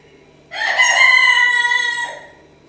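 A rooster crows once close by, a loud, drawn-out harmonic call lasting about a second and a half that rises, holds and tails off into a brief grumbling cluck, alone against a quiet background.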